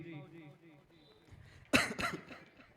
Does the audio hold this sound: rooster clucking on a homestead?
no